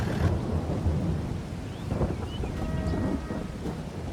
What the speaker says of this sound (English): It's still been raining, hasn't really stopped.